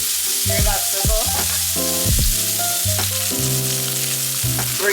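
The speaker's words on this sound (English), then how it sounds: "Hear that sizzle?" A wagyu steak searing in a very hot pan gives a loud, steady, close sizzle that runs unbroken throughout, with no voices.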